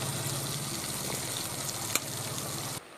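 Steady, loud sizzling of river fish frying in hot oil, with one sharp click near the end before the sizzle cuts off.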